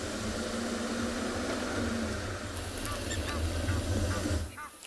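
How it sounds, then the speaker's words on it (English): Egyptian geese honk and blacksmith lapwings call at Treehouse Dam during a sunrise safari, a dense steady chorus of birds with repeated honks that holds at an even level, then thins briefly near the end. "Egyptian geese, blacksmith lapwings here at Treehouse Dam."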